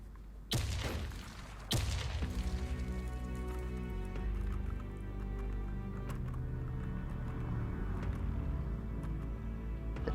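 Gunfire in the online shooter WarZ: two sharp, loud shots ring out near the start, followed by a sustained, dense rattle of game sound effects with faint ticking detail throughout.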